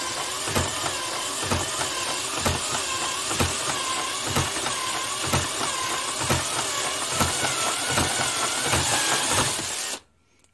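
A battery-powered hand drill spins a Wico EK high-tension magneto on a test stand, giving a steady mechanical whir with regular rhythmic clicks or snaps about twice a second, loud and close, stopping abruptly near the end.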